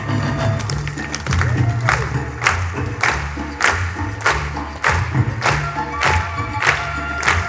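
A conference audience claps in unison to a thumping DJ beat, about a dozen steady, loud, evenly spaced claps over a crowd murmur and the music's bass.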